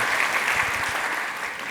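A conference audience at a Ruby programming talk breaks into a burst of close, dense applause that fades slightly toward the end, with no one speaking.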